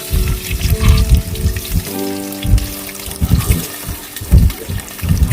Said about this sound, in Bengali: ডিমগুলোকে আস্তে আস্তে আমি ভেজে নেব